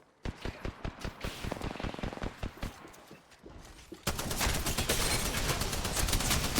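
Rapid automatic weapon bursts ring out during an Apex Legends firefight, loud sharp cracks in quick succession, followed by a dense continuous roar of shots and impacts.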